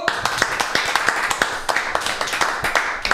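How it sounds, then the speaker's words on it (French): An audience at a live radio show claps in quick, slightly uneven rhythm, close and lively, for a few seconds. "Allez, on applaudit bien fort Nasco."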